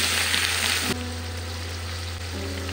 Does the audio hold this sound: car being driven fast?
no